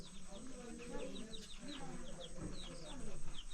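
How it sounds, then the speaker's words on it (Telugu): Chickens in a small tribal village deep in the forest give soft, scattered clucks and short calls at a moderate distance. A person talks over them and an even background hum continues throughout. "ఓ, కోళ్ళు ఉన్నాయి ఇక్కడ."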